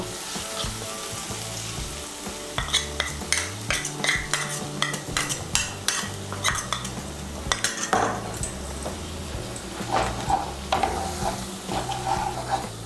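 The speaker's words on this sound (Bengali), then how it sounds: "মিশিয়ে নিয়ে মশলাটাকে আমি ভালো করে একটু কষিয়ে নেব" A spoon scrapes and knocks in a pan as a spice paste of chili and coriander powder for potol do pyaza is stirred and fried, with a soft steady sizzle under irregular metallic clinks and scrapes.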